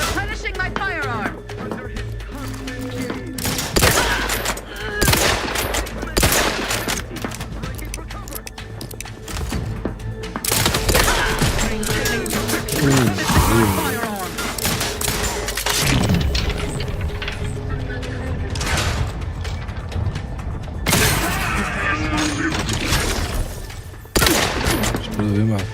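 Gunfire in the video game Outer Worlds 2, repeated bursts of blasts and rapid shots with some impact crashes, loud throughout, mixed under frequent talking from a player and game voices.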